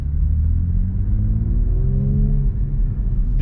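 BMW X3M engine in manual mode, a loud, close, steady rumble as the revs climb and hold under acceleration, heard from inside the car with no talking.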